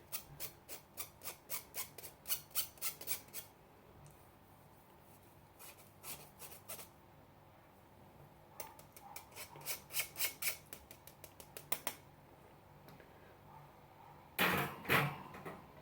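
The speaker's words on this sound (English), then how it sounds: "just give it a scrape through with the sieve" Flour lumps are scraped through a metal sieve for almond muffin batter, a series of quick rhythmic rasping strokes in bursts, close and fairly quiet, with a louder scrape near the end.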